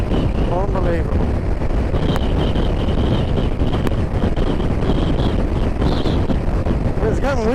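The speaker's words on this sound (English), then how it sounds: "It's getting windy here." Strong wind buffets the microphone continuously on Scotland's north coast, a loud steady roar with occasional voices faintly underneath.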